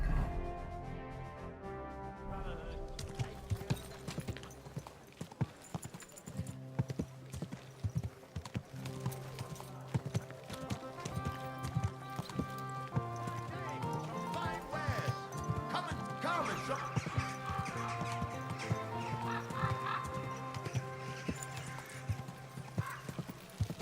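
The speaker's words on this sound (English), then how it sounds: "Easy, good horse." Horse hooves clop steadily at a walking pace in the video game Kingdom Come: Deliverance 2, with a neigh and a muffled voice over a game soundtrack with music in the background.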